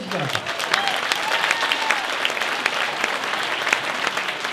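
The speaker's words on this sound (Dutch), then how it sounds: "Hans Houtwater, hartelijk applaus voor onze presentator." Audience at a military tattoo finale applauding the evening's presenter, loud continuous clapping from a sizeable crowd with a faint voice briefly heard near the start.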